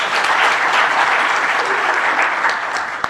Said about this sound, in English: And can we give him another clap?